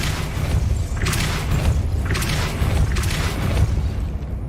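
A spell cast in the video game Hogwarts Legacy: three deep, booming force blasts about a second apart, each with a bright whooshing burst, over a constant low rumble of game ambience.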